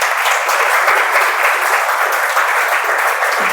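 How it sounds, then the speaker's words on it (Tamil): Sustained audience applause fills a hall at a Tamil arts and literary society event, a dense, steady wash of many hands clapping at even loudness with no voices on top. "ஒரு மிகப்பெரிய கைத்தட்டலை இப்பொழுது நீங்கள் கொடுக்கிறேன்"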